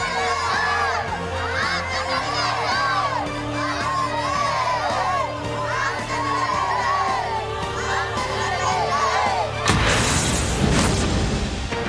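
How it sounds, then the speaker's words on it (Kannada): Schoolchildren at a government school in Kalaburagi shout and cheer loudly together in excited repeated bursts as borewell water starts to flow, ending in a rush of gushing water noise. "ಮಕ್ಕಳು ಚಪ್ಪಾಳೆ ತಟ್ಟಿ ಸೂಪರ್ 3ಗೆ ಜೈಕಾರ ಹಾಕಿದ್ರು."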